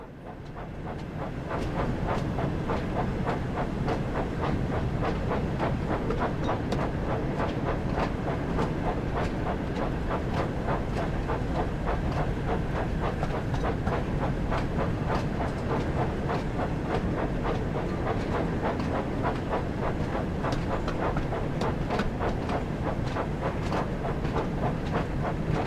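Steady train running on rails, a continuous rumbling clatter with rhythmic clicking and faint hiss that holds at an even, loud level throughout, from a Thomas the Tank Engine game set in Somerset.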